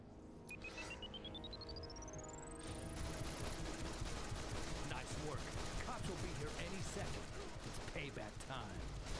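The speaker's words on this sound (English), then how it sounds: "This is why I love dual pistols right here." Dual pistols firing in a DC Universe superhero game, dense rattling bursts of gunfire that thicken after a rising electronic whine, with someone talking over the shooting.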